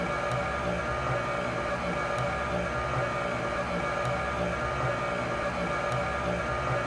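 A Stenner peristaltic pump runs with a steady, continuous mechanical hum and whir, its roller turning with faint regular ticks, close and unbroken throughout with no voices.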